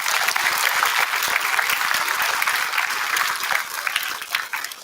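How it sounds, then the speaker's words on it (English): An audience at a seventh-grade school awards day applauds students, a bright, steady burst of many hands clapping close by for several seconds, with a few voices faintly mixed in. "Round of applause for them."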